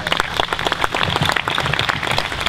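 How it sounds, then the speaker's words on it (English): A concert audience applauds as musicians return to the stage, steady close clapping that continues evenly throughout. "let's welcome these wonderful musicians back."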